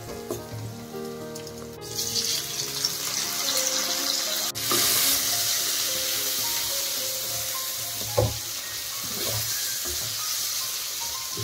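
Tomatoes frying in a pan with onion gravy, a steady close sizzle with stirring scrapes and a brief louder clatter partway through.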